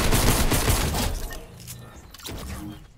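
Rapid pistol gunfire in a video game shooter, a loud dense burst of shots that trails off, followed by quieter mechanical clicks and game noise.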